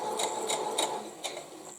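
A sewing machine stitching a quilt seam, its needle tapping in quick, regular bursts close by, then running on at a softer, steadier pace.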